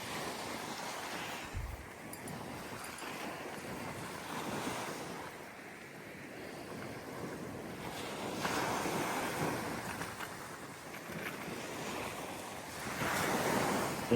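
Surf washes in at Puka Beach on Boracay Island, a steady roar of breaking waves blended with gusty wind buffeting the microphone, swelling and easing throughout.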